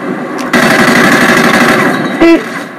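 Rapid automatic gunfire from Modern Warfare 3 multiplayer, a dense sustained burst lasting most of the moment with a sharper report near the end, loud and close.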